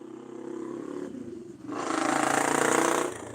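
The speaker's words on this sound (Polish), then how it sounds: "przejeżdżają tutaj koło mnie motory bez tłumika" Motorcycles with no mufflers pass close by, a loud broadband engine roar that swells midway and holds for more than a second before easing off, over a steady lower engine hum.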